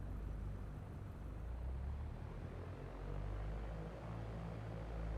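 A simulated Cessna in X-Plane 11 rolls for takeoff on runway 29 at Oceano, its propeller engine holding a steady, loud drone that fills the clip alone.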